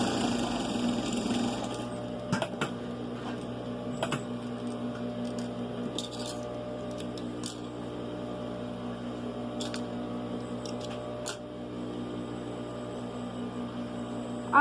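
A sewing machine stitches a side pocket in a garment, a steady mechanical hum running throughout with occasional sharp clicks and taps, close and moderately quiet.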